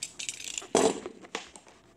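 Plastic cable molding being cut, with a sharp crunching snap in the middle and a smaller crack after, close and loud with no talking.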